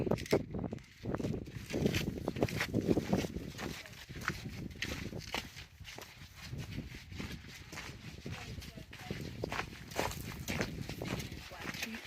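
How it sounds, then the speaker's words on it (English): Mule hooves clop unevenly along a Grand Canyon trail, soft and somewhat distant, mixed with rustling and faint voices in the background. "we see the mules coming up"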